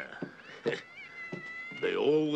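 Cats meow in a scene from the 1970 mystery thriller The Bird with the Crystal Plumage, a few close, sharp cries ending in a long wail.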